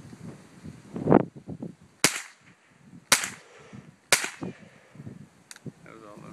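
A .22 rifle fires subsonic rounds outdoors, four sharp, fairly quiet cracks about a second apart, with people talking between shots.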